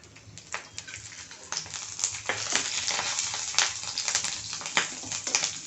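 Dried chillies roasting in a small amount of oil in a pan for village-style thecha, a steady close sizzle with dense crackling pops that grow busier and louder over time.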